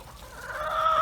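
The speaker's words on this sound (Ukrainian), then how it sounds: "і вибігають наші курочки" Chickens clucking and calling close by, a steady rising vocal chorus of hens.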